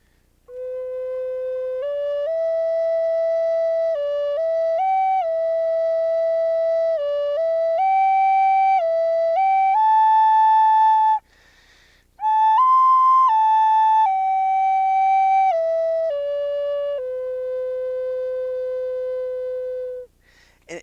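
A spirit flute plays a slow sequence of pure, breathy tones stepping up and down through consecutive notes, each held for a beat or two, with one short pause midway, solo and close.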